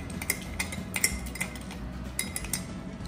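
A metal spoon clinks against a glass as a summer drink is stirred, a quick irregular series of bright close taps over a steady low background hum.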